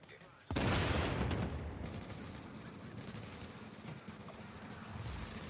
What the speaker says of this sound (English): Seeker mines and stickies going everywhere.